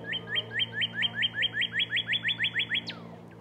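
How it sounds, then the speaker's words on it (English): A male cardinal sings outdoors in a garden or woods, a clear run of about fourteen rapid, evenly spaced whistled notes ending in a higher slurred note, fairly close over a low steady hum. "Okay, you can't see him, but at least you can hear him. That is a male cardinal."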